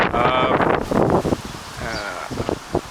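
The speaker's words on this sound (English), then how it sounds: "it's a very windy April 29th" Gusty wind on a windy April day beside a cement stream and pond buffets the microphone and rustles foliage in loud, uneven surges, with a bleat-like animal call faintly audible.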